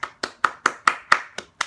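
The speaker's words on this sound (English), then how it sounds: "I'll just clap" Eight sharp hand claps at an even, steady pace, close and fairly loud, standing alone with no talk, given as applause for a soccer team's 1-0 CONCACAF League round of 16 first-leg result.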